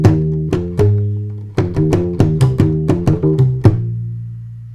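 Gimbri played with the three-finger percussive technique, deep plucked notes mixed with sharp rhythmic slaps in a syncopated groove, close, loud and unaccompanied.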